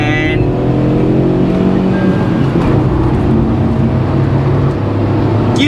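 Manual 2021 Tata Altroz iTurbo turbo-petrol engine pulled hard at full throttle, a loud sustained drone with rising harmonics through the run, a brief tyre chirp at the start, and a voice talking over it.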